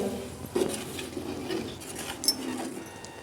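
Masala being stirred with a little water in a cooking pot for a brinjal-potato curry, with soft scraping and clinking of a utensil against the pot, a few sharper knocks, and a faint sizzle underneath.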